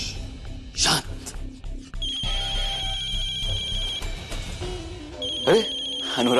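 A telephone rings with a repeating electronic ringtone in a tense television drama scene, mid-loud and close, mixed under dramatic music and sound effects.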